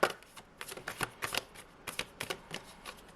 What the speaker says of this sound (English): And we'll shuffle them last time.